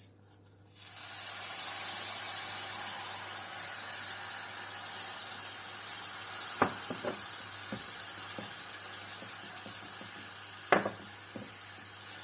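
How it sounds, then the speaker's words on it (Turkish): Sesame seeds and grape molasses roasting in a pan on a lowered stovetop flame give a steady soft sizzling hiss, with a few sharp pops and crackles scattered through it and no talking. "Pekmezimizle birlikte susamlarımızı birkaç dakika bu şekilde kavuruyoruz yine"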